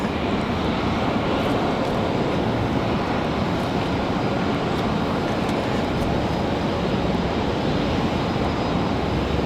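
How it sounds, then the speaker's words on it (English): A Pilatus PC-12 turboprop flying nose down and struggling near Raleigh-Durham airport gives a steady, loud broadband drone that holds unbroken throughout. "Man, this Pilatus is struggling."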